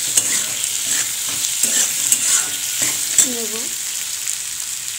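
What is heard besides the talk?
lightly sautéing with salt, cumin powder and sugar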